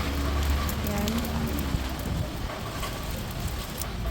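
Steady rain patters on a surface, a continuous soft hiss close by, with a faint murmur of voices underneath.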